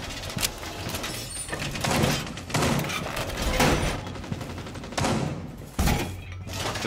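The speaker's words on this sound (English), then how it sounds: "Breaking the hatches" Reinforced hatches are smashed open in Rainbow Six Siege, heavy crashing and splintering impacts arriving in several loud bursts amid gunfire-like cracks and debris.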